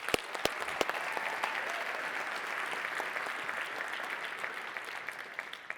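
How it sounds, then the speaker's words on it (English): Audience applause at a Colliers proptech accelerator demo day, a dense, sustained round of clapping from a crowd with a few sharp claps standing out near the start and end. "Let's give her and the team a big round of applause."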